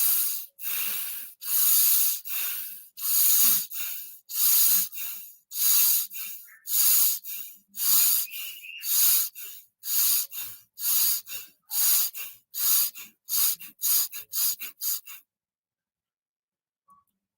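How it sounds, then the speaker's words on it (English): During a workshop breathing exercise, people take a long run of sharp, forceful breaths, about twenty bursts that come faster toward the end and then stop, leaving near silence. "try to concentrate on your breathing"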